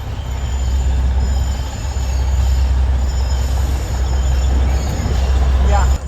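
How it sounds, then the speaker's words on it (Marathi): A loud train rumbles past close by near Matheran, a heavy steady roar of wheels on rails with a faint squeal near the end. "ट्रेन गेली."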